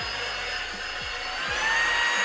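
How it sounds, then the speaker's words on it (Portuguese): An ABIR VC205 vacuum cleaner running, a steady loud motor whine and airflow hiss that rises slightly as it goes, close by with no talk. "Só ligar aqui o aspirador."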